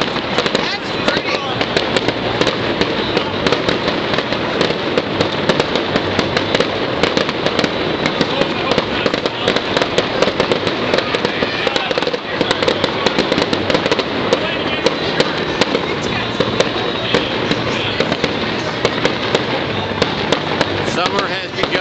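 Fireworks bursting after a Mud Hens baseball game at a small stadium, a dense, continuous barrage of booms and crackles, with people talking over it.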